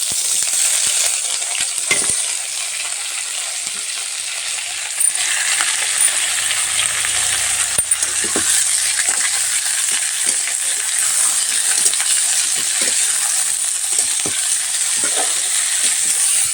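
Vegetables with cauliflower and tomato fry in a little oil, a steady loud hiss and sizzle running throughout with scattered clinks and stirring scrapes, and no one speaking.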